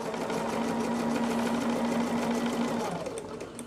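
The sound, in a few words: sewing machine stitching quilt pieces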